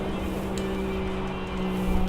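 A car engine drones steadily at high revs in the street racing game Tokyo Xtreme Racer 3, a constant near tone with a faint tire squeal.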